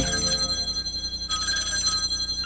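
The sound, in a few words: telephone ringing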